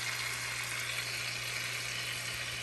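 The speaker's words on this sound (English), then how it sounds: "we're going to simmer this on low" Lamb chop sauce simmering on low in a pan gives a steady, even sizzle and bubbling crackle at close range, continuous and unbroken with no voices over it.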